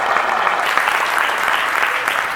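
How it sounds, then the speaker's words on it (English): Sustained applause from a crowd at a political get-out-the-vote rally, steady and dense clapping throughout with no pauses. "Another round of applause for our next Senator, Bernie Moreno."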